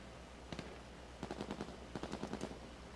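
A player shoots in the video game H1Z1, producing faint, somewhat distant bursts of rapid gunfire: a short pair of shots, then two longer strings of quick cracks.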